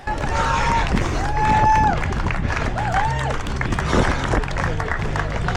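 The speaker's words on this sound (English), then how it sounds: "Great section for crowd support." Spectators line a half marathon course cheering runners, a lively crowd of clapping, shouting and whistles around the passing runner, steady and fairly close throughout.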